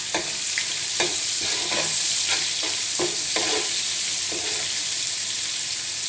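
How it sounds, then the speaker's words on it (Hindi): Onions, garlic and green chillies fry in a pan for fish biryani, giving a steady, close sizzle broken by repeated clicks and scrapes of stirring throughout. "प्याज डाल देंगे। प्याज को गोल्डन ब्राउन कर लेंगे।"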